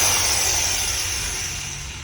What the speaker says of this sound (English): Make sure my drill's gonna spin the right way.